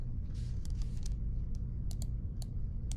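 A few scattered keystrokes tap on a computer keyboard while sizes are typed into Cricut Design Space, soft and close over a low steady hum.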